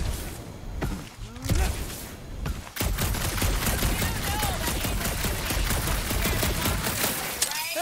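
Rapid bursts of gunfire from the video game Guardians of the Galaxy, set in a dark area, with dense, sustained shooting after a short lull and a brief voice early on.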